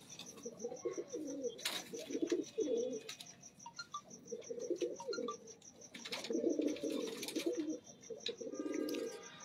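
Pigeons kept by breeders coo in repeated low throaty phrases, several birds near and steady, with faint chirps and a persistent high background tone.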